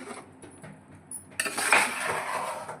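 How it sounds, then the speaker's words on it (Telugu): Mushroom biryani stirred with garam masala in a pot, a few metal clinks and scrapes of a spoon against the vessel, soft at first and then louder, near. "నేను కొంచెం గరం మసాలా పైన వేస్తున్నానండి. ఒకసారి ఇలా కలబెట్టుకోవాలి."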